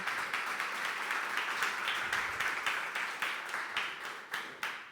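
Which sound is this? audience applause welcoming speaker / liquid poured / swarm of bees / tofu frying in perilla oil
audience applause welcoming speaker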